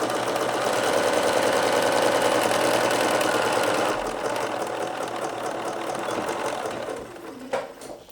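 A sewing machine stitching a straight 5/8 inch seam allowance runs steadily with a fast, even mechanical whir, close and continuous, easing slightly before stopping near the end.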